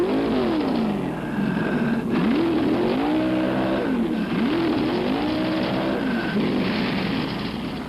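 A car engine drives and revs in waves, rising and falling in pitch as it accelerates, loud and continuous throughout, with a faint squeal of tires at moments; set in a 1970s convertible with the top down.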